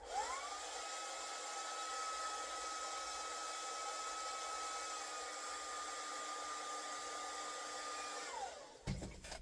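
Heat gun blowing a steady, loud airy roar with a constant whine as it warms fresh paint on a fishing lure, running alone for about eight seconds before switching off with a brief clatter.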